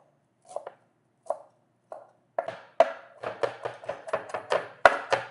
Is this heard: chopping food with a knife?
yes